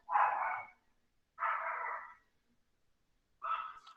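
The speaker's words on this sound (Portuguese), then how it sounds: "vocês estão ouvindo o cachorro da vizinha latir?" A neighbour's dog barks three times at a distance, each bark a muffled, drawn-out woof with quiet gaps between them.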